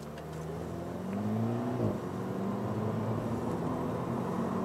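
Volkswagen Scirocco 2.0 TSI accelerating from inside the cabin, engine drone rising in pitch, a brief dip at a gear change, then climbing again under steady road and wind noise, with no talk.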